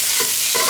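Blackened spice-crusted salmon with crispy skin sizzles loudly in a hot pan just after being flipped, a dense, close, continuous hiss with no talking.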